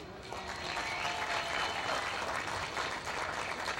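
Crowd at a 1989 youth camp closing ceremony in Piedmont Park applauding, a steady dense wash of clapping heard from amid the audience, continuous and fairly even throughout.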